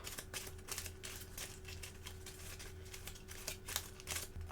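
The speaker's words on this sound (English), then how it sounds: "We're going to shuffle these up." Playing cards being shuffled on a gaming table: a rapid, dense flurry of crisp riffling clicks in several bursts, close and moderately loud over a low steady hum, with no talk.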